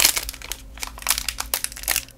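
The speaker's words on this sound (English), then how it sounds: "I will be opening each one just because I want to see what card I got" A pre-packaged Japanese snack wrapper holding a trading card is torn open close up, with rapid bursts of loud plastic crinkling and crumpling over a couple of seconds.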